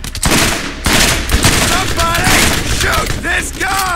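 Rapid automatic gunfire crackles in Borderlands co-op combat, loud and close in continuous bursts, with voices talking over the shooting.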